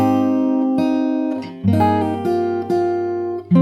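Fingerstyle guitar plays the opening of a part from a song, a slow run of sustained plucked chords and bass notes with a few brief dips between phrases, close and clear with no voice.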